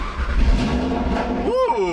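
A car with a TTE700 built engine and freshly programmed ECU cranks and fires up, the engine catching with a rising rev near the end, close by, with a voice audible alongside.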